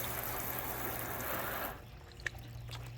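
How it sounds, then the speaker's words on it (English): Water sheeting off a car finished with Turtle Wax ceramic spray coating, a steady rushing spray for under two seconds that cuts off abruptly, leaving sparse drips and a single sharp drop. "you can see how fast that water sheets off"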